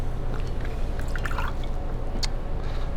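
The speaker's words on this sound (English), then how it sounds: "We're going to do an ounce of orange juice." Orange juice is poured into a cocktail shaker or glass for a Hurricane, giving a brief close liquid trickle and splash over a steady background hum, with no talking.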